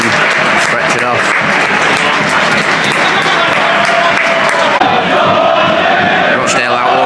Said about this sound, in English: Applause right around the stadium.